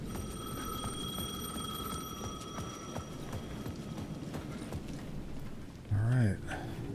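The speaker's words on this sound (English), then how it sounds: "Is the phone ringing?" A telephone rings in the video game Alan Wake 2, a steady electronic ring heard over a low ambient hum for a few seconds before a voice speaks.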